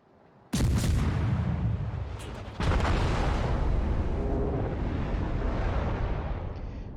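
Heavy artillery in a video game fires at a ship's superstructure: two loud booming salvos hit about two seconds apart. Each leaves a long, roaring rumble that stays loud, with no talk over it.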